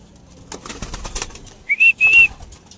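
Racing pigeons flap their wings in a quick flurry of soft broadband beats, followed by two sharp, high whistles close by.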